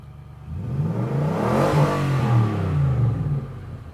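A Nissan Patrol Y62 engine with a new exhaust revs up loudly with a deep, throaty rumble, rising and holding for a couple of seconds before settling back down.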